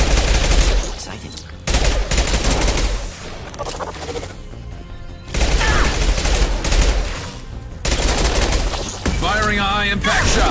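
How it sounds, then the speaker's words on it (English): Sci-fi gunfire from a Mass Effect 2 battle, with loud bursts of rapid shots coming in several clusters, set among dense combat effects and brief quieter gaps. "Firing a high-impact shot!"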